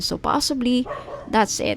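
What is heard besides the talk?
dogs barking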